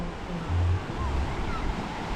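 Sea waves wash onto the east coast of Quezon, a soft, continuous surf rumble with light wind noise, faint and brief.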